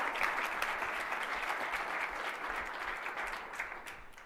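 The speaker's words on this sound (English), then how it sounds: "So big round of applause to 8451." A demo day audience claps for a startup accelerator, with fairly distant, dense applause that holds steadily and fades slightly toward the end.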